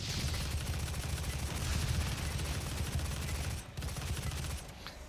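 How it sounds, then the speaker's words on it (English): Rapid volley of micro missiles fired in Doom 2016 on the Kadingir Sanctum map, a dense, continuous barrage of thumping launches and blasts that stays loud throughout, with a brief dip near the end. "Micro missiles at the ready."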